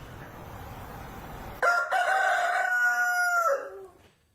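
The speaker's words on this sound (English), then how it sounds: "I need this chicken." A rooster crows once, loud and close, a long drawn-out cock-a-doodle-doo lasting about two seconds that trails off, following a stretch of low background noise.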